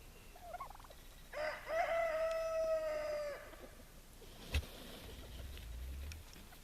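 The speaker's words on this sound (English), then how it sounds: "he's a very good rooster" A bantam rooster crows once, a long drawn-out call held for about two seconds, followed by a brief knock and quiet outdoor ambience.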